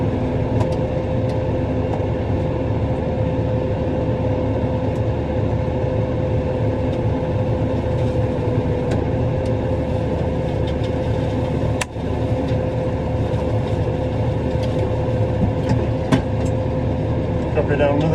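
A tractor at about 400 RPM runs an offset flail mower cutting a hedge, giving a steady, close, droning engine hum with a sharp knock or two, and no change in pace throughout.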